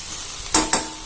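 Manathakkali greens sautéing in a pan, a steady close hiss of frying broken by two quick spatula scrapes in succession, with no talk.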